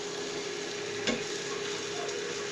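Tomato paste is stirred into frying garlic and ginger masala for egg curry, producing a constant sizzling hiss with a brief clatter of the spoon midway, close by and without talk.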